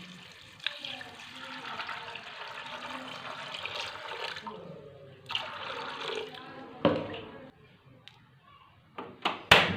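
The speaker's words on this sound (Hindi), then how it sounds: "इसमें हम डालेंगे पानी।" Water pours steadily into a metal pressure cooker for several seconds, then stops, followed by a few clanks and splashes close by.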